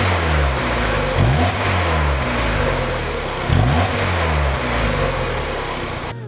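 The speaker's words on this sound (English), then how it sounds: "I think that the way the car currently sounds" A 1992 Mazda Miata on its stock exhaust, the four-cylinder engine idling in a steady drone with two sharp, brief revs that rise and fall back, heard up close with no talk.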